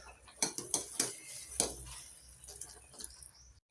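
Besan mixture being stirred and scraped in a pan for besan barfi, with a series of close metal clinks and scrapes at an uneven rhythm, a few sharper knocks among softer scraping, no talk.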